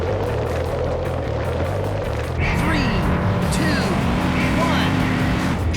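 Hot Wheels toy cars racing in the PS2 game Hot Wheels Stunt Track Challenge: a steady low hum, then engine whines rise and sweep in pitch after a couple of seconds, staying loud and close.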